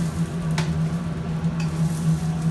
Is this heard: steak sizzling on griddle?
yes